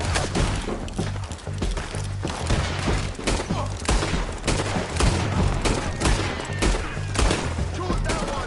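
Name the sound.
gunfire in the video game Red Dead Redemption 2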